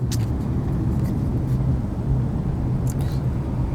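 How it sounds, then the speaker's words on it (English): Steady, loud road noise from rush hour car traffic in Phoenix, Arizona, with a continuous low engine and tyre rumble and a couple of passing vehicle swells. No speech is heard. "I end up in rush hour traffic no matter where I end up"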